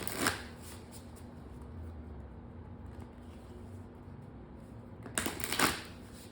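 A deck of oracle cards is shuffled, two brief riffling bursts near the start and end, quiet and close, with faint room hum between them.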